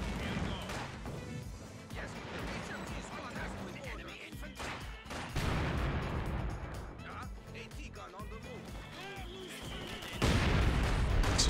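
Mortar fire from two half-tracks in a World War II-style game, a steady barrage of muffled booms and bursts running under continuous talk, with a heavier blast rising near the end.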